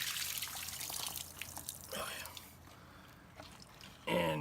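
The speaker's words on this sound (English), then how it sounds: "Same thing, we're gonna dump the water out." Water is dumped out of a sediment filter housing during a cottage water filter change, a close splashing pour with drips and trickles, followed by a brief louder gush.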